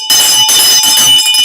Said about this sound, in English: We love our bell.